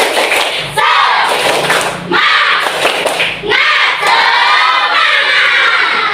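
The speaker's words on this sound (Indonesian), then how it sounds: "Bisa tepuk semangat? Bisa. Boleh berdiri. Tepuk semangat." A class of children claps a rhythmic spirit-clap pattern and shouts together in loud bursts, a short cheer repeated several times close by in a classroom.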